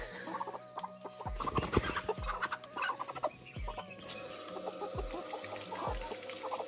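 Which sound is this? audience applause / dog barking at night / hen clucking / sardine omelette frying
hen clucking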